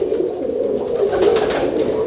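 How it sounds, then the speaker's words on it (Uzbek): A pigeon coos nearby in a continuous low, throaty warble that swells slightly midway, with no speech over it. "Mana shu moda bu kaptar."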